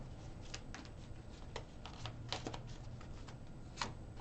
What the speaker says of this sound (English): One more shuffle for the second part of this reading